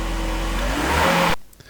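Mercedes 300E engine running steadily with a broad, loud mechanical roar and faint rising pitch, continuing despite a missing fuel pump relay, then cutting abruptly near the end.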